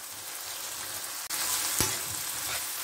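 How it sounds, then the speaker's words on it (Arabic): Onions and a mixture sautéing in a pan give a continuous close sizzle, broken by a brief dip and a sharp scrape of a utensil, with no talk. "هي دابا كتشحر"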